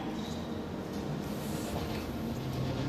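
Train at a station platform in the video game Late Shift, a steady low rumble and rolling hum that fills the whole stretch, fairly loud and continuous with no clear voices over it.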